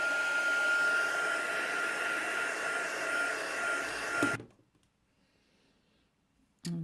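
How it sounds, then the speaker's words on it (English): A handheld heat tool dries Brusho crystal colours on paper, giving a loud, close, steady blowing whir that runs for several seconds and then cuts off into near silence. "Just going to go in with my heat tool."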